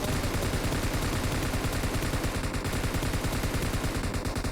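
Dense, continuous video game gunfire from a sniping match, with loud overlapping shots filling the whole stretch without a break and no speech heard.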